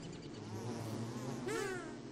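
Bees buzzing in Don't Starve, a short, close, wavering insect drone with a rising whine near the end.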